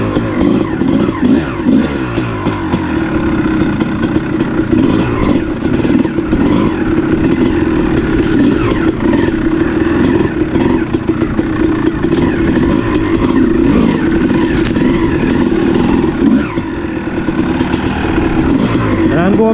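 A 2006 Kawasaki KX250 two-stroke motocross bike fitted with an 11 oz flywheel weight and VHM head drones loudly and continuously on a cold trail ride, its engine note rising and falling throughout.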